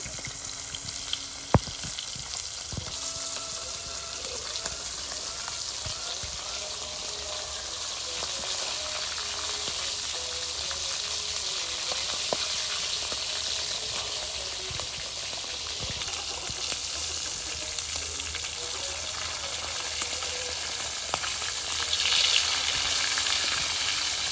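Fish fry in oil on a clay stove, giving a continuous dense sizzle and crackle throughout, with occasional clinks and light stirring, close and steady.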